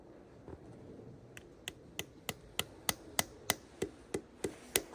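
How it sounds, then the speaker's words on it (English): A sap tap is hammered into a maple tree at Full Creek Farms: about a dozen sharp, evenly spaced hammer taps, close and crisp, steadily growing a little louder, with no talking. "And then we can go ahead and put our tap in."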